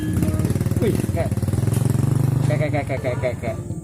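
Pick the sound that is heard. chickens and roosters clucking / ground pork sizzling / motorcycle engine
motorcycle engine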